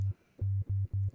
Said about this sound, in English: okay, sine wave modulated by sine wave sounds like this.